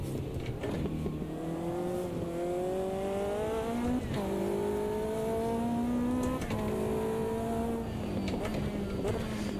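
A Lotus 620R's engine revs hard in the Automobilista 2 racing game, its buzzing tone climbing and dropping with several gear changes over nearly ten seconds, steady and close, with occasional light tire noise.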